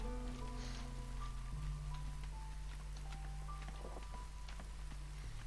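Steady rainfall patters from a drizzle geyser in the video game Against the Storm, a soft continuous hiss of drops over low droning game music and ambience, with no voices.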